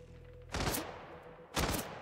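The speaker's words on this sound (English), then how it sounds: "I can hear the bullets flying past." Gunfire from the video game HITMAN: World of Assassination, two loud bursts of rapid shots a second apart, each lasting about a quarter second over quiet background.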